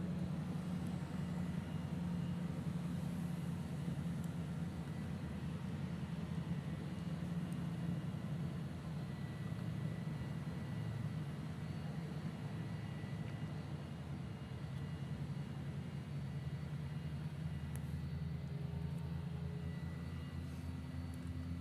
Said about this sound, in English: This is Virgin America Flight 762 heading off to Seattle.